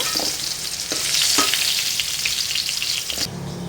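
Fried pointed gourd (potol) sizzling in hot oil in a pan, a continuous close crackle with a few scraping stirs before the sound drops off near the end.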